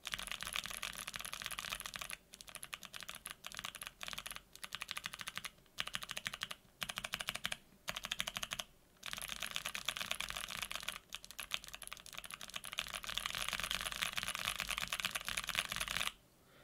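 Rapid clacking keystrokes on Kailh BOX Jade switches fitted with keycaps come in fast bursts separated by short pauses, crisp and close, with no talking.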